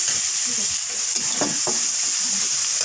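Garlic and spices with a little sugar frying and being stirred in a pan for a taro and potato curry, a steady close sizzle broken by a few sharp scrapes of the spoon.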